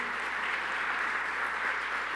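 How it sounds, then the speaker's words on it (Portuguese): Congregation at a church service applauding, a steady, dense wash of many hands clapping that holds evenly for about two seconds with no voices. "Você pode aplaudir mais uma vez a Jesus?"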